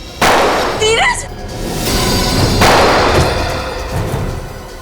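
During a tense confrontation, a sharp gunshot-like bang rings out, followed by another heavy thud and a rumbling impact, with people shouting and talking loudly throughout.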